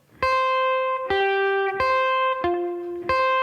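A guitar plays slowly over a held C pedal point, a two-string pattern. Five clear plucked notes ring out one after another, each sustaining until the next.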